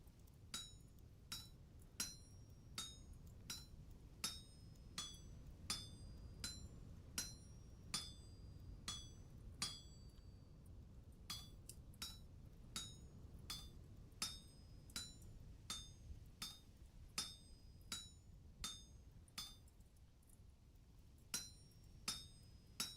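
Iron hammer smithing in the video game Vintage Story: a steady series of sharp metallic clinks on an anvil, about one strike per second, ringing over a quiet low background with no talking.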